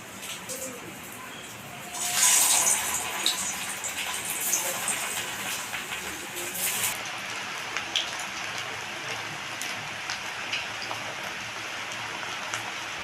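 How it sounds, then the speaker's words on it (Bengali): Cabbage fritters dropped into hot oil set off a loud hissing sizzle that then settles into a steady, crackling fry nearby, with no voices heard. "তেল গরম হয়ে গেছে, এবার আমি বড়াগুলোকে ভেজে নেব।"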